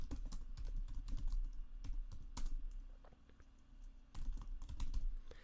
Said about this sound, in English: So I'm going to type a command